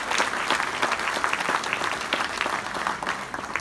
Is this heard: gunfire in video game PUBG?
no